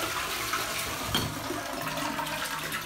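A toilet aboard the Queen Mary in Long Beach, California flushes with a loud, steady rush of running water that continues throughout, close by, with no talking.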